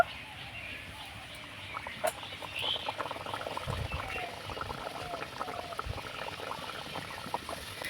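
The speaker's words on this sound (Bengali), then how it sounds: "একইভাবে করে বেলে নিয়েছি, তেলের মধ্যে ছেড়ে দেব।" A pea-stuffed puri deep-fries in hot oil with a bubbling, crackling sizzle that grows after a soft splash near the two-second mark, close by, while someone speaks over it.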